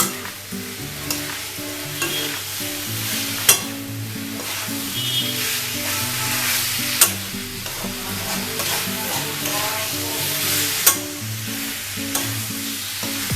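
Raw jackfruit stir-frying with spices in a pan: a loud, continuous sizzle heard close up, broken by periodic scraping stirs and a few sharp knocks against the pan.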